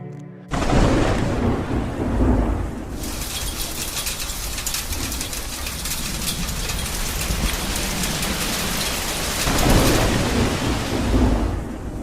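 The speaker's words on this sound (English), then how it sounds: "everything changed when a powerful hailstorm struck" Heavy rain pours steadily during a hailstorm in Yuma while deep thunder rumbles and cracks, close and loud, with the storm swelling toward the end.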